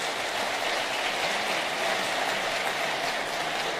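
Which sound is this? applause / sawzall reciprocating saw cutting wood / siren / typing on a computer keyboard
applause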